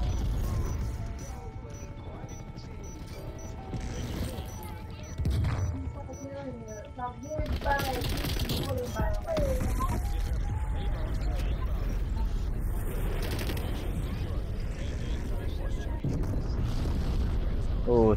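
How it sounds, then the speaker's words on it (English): Video game nuke being called in and detonating: a low rumbling blast swells midway and sustains as a heavy roar, with announcer-like voice and chatter heard over it. "Me calling my nuke."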